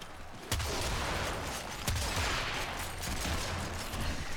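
Pistol fire in the video game Warframe, with a couple of sharp shots standing out over a dense, busy layer of game noise and rapid crackling effects.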